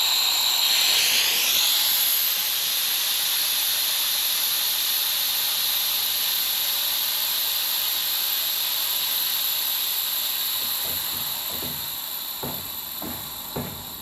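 Air ride suspension on a car in mock-up on wheel dollies, bled through a simple valve, releasing a loud, steady hiss of escaping air that softens near the end as a few faint knocks come through.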